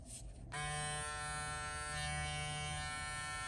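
Electric hair clippers switch on with a click and run alone in a steady, close, high-pitched motor buzz.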